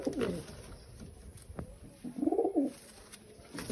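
Pigeons coo in a loft in Sri Lanka with soft, rounded calls in short bursts, close and clear against a quiet background.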